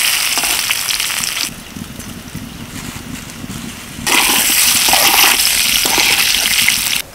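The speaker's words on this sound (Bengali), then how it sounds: "উল্টে পাল্টে হালকা করে ভেজে নেব।" Pieces of food lightly frying in oil in a pan while being turned over for a healthy tiffin snack, a steady loud broadband sizzle that quiets briefly in the middle, then surges back strongly.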